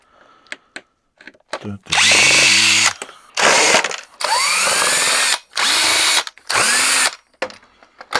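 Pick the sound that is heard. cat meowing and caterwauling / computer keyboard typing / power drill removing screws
power drill removing screws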